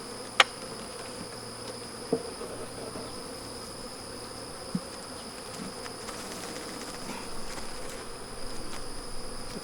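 Honey bees hum steadily around brood frames lifted from a hive, a faint continuous buzzing texture broken by a few sharp clicks and knocks as frames are handled.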